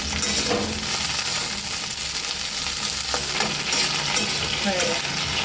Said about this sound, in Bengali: ওই তেলে দিয়ে দিচ্ছি বরবটি